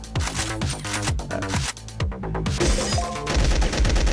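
Rapid, rattling machine gun fire in the video game Shoot That Pizza, loud and continuous over a rhythmic game music track.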